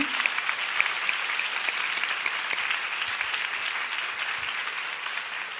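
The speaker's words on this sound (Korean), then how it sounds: "스태프들 향해서 한번 축복의 박수 한번 보내주시겠어요?" A church congregation gives a sustained round of applause for the broadcast, lighting and sound staff, an even wash of many hands clapping at a steady level throughout.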